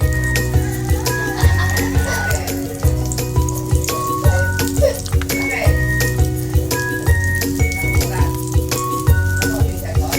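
Cooking oil heats in a pan for an omelette, giving a steady, dense sizzle that runs throughout under prominent background music.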